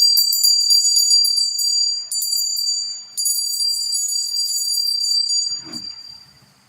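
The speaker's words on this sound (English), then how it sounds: "It is time to ring the bell." A small bell rings in a livestream, giving a bright, sustained tone in repeated strokes and loud throughout, with a brief low rustle near the end as the ringing fades.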